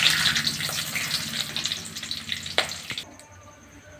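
Whole spices and a bay leaf crackle and sizzle in hot oil for a duck curry, a bright frying hiss that fades and thins toward the end with a few sharp pops.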